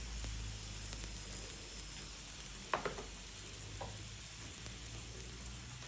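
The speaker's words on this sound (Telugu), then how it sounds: "రెండు వైపుల కూడా ఎర్రగా వేయించుకోవాలి" An onion paratha fries in a pan with a faint, even hiss, and a brief scrape or tap sounds midway as it cooks.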